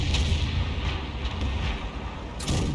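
A tank gun fires a round in a video game, a heavy booming blast that rolls into sustained low rumble, with a fresh burst of noise near the end.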